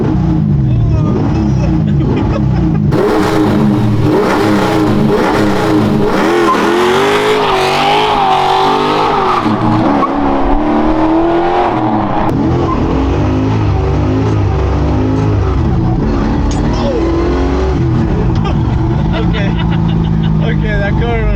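A 1970 Dodge Super Bee accelerates hard, its loud V8 roar rising and shifting in pitch as it pulls away, close and continuous for about twenty seconds, with people talking over it.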